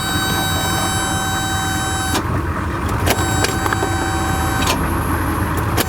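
A car engine, being jump-started with jumper cables at a roadside, holds a steady close hum marked by a few sharp clicks and knocks, with no voices.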